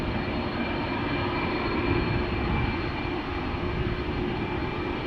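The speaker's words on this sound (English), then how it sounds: "engines of an A330, clearly audible coming this way." Airbus A330 jet engines approaching at Amsterdam Schiphol Airport, a steady, loud broadband roar with deep rumble holding evenly throughout, no voices over it.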